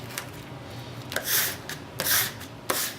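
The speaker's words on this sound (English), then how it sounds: "We just start from the middle and scrape it so that it's completely smooth." A scraper smooths a vinyl decal, scraping across its smooth surface in several short rasping strokes, close and fairly quiet, with brief pauses between passes.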